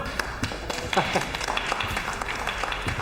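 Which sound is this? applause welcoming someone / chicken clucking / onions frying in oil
applause welcoming someone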